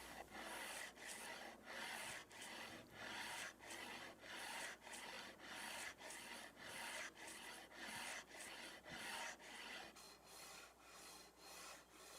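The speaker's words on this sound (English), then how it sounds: "I'm just going and sanding the whole thing with some relatively fine grit sandpaper on a leveling beam." Regular back-and-forth strokes of fine-grit sandpaper on a leveling beam rasping across a guitar fretboard, each pass a short scratchy swish in a steady rhythm, close and fairly quiet.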